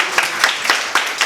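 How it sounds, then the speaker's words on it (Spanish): Applause from an audience at a feminist political agenda event, with sharp, close claps in a loose rhythm over a continuous wash of clapping. "le mandamos un fuerte aplauso"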